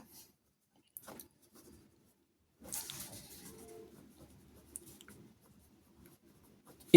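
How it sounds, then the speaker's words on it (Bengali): Pen or pencil writing out a math question by hand on paper, quiet intermittent scratching strokes with a longer burst of writing in the middle and a few light taps. "আমরা প্রশ্নটা লিখে নেব"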